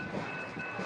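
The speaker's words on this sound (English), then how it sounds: "Oh, the train is coming. This is our light rail, public transportation." Light rail train arriving at a crowded station platform, a steady low rumble and rolling rail noise with a faint high whine, heard at moderate distance.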